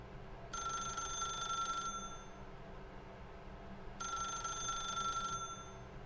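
A telephone rings in The Stanley Parable: Ultra Deluxe, two separate bursts of bright trilling bell tone, each lasting about a second and a half with a pause between, over a low steady hum of background ambience.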